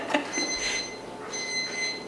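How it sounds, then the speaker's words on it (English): Alarm ringing indoors during gardening work with cosmos seedlings, a steady bright electronic chiming in two bursts, moderately loud and unaccompanied by speech. "that's Dan's alarm"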